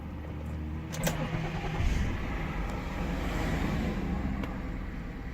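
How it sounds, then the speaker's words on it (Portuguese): A Ford Edge fitted with a flex-fuel kit starting for the first time of the day, with a brief crank, then the engine catching near the mic and settling into a steady idle. "Vamos dar a primeira partida do dia"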